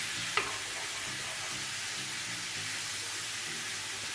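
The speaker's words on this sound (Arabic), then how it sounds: "وصافي غادي نخلي الدجاج والبصله يتشحروا هكاك شي 5 دقائق" Chicken and onion sizzling steadily in a pan while being stirred, a constant soft frying hiss with a brief scrape of the utensil near the start, fairly quiet and with no voices.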